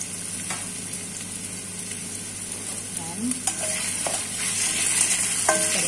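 Vegetables sautéing in a little oil for spring rolls, a steady low sizzle and frying hiss with occasional stirring scrapes and utensil clinks, no voices.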